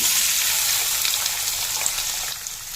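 Boiled, drained soybean chunks fry in hot oil tempered with bay leaf and whole cumin, making a dense, bright, continuous hissing sizzle that stays close and loud throughout and eases slightly at the end.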